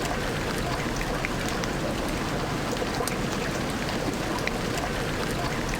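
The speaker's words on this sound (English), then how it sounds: "Horrible rainy music." Rainy ambient music from the video game System Shock plays quietly and steadily, a hissing, rain-like wash of sound without any break or talk.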